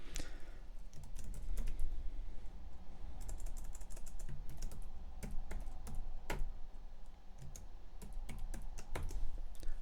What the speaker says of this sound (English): So for this, I'm just going to type my details in.